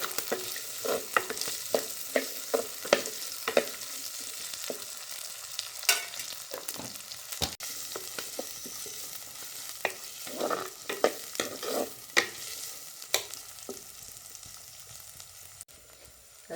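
Chopped onion, garlic and green chili fry in an oil-filled pan in a village kitchen, a low sizzle running under sharp, irregular scrapes and clicks of a spoon stirring, close up with no talk.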